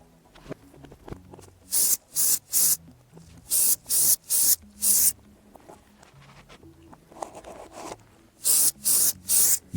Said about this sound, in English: I'll suck it out of the shoe with this spray